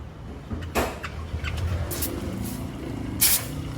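A water pump on a Suzuki Jimny JB74 runs with a steady whirring drone, broken by several short bursts of spraying, hissing water, close and fairly loud.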